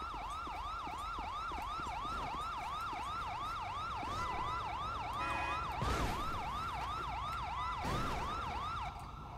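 A loud wailing ambulance siren cycles up and down continuously, with a brief thump and a short horn-like tone partway through, in the video game mod LSPDFR.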